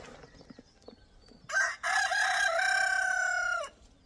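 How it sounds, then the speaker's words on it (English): A rooster crows a long, warbly cock-a-doodle-doo on a homestead, loud and close, with a short opening burst followed by a sustained wavering call that cuts off abruptly. "he drives me crazy with his warbly cock-a-doodle-doo."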